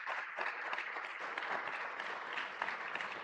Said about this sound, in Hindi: करतल ध्वनि के साथ स्वागत जनरल मैनेजर और principal chief security commissioner east central railway.